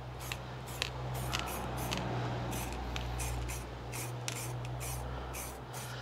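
A can of satin black spray paint hisses in short repeated bursts as a light dusting coat goes on, close up and fairly soft.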